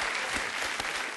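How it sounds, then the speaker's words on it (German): A brief burst of dense clapping from a TV cabaret audience, steady and loud across the short stretch. "Ja, da klatschen sie."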